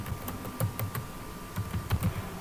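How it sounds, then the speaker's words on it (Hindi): Keys clack on a computer keyboard, with a handful of light, close taps over a faint steady hum, and no one speaking. "फिर एंटर करेंगे।"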